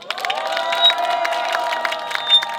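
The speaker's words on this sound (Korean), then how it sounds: "박수와 환호 부탁드리겠습니다." A crowd at a workers' one-year struggle rally cheers and shouts, loud overlapping voices with some clapping mixed in, sustained and close throughout the short stretch.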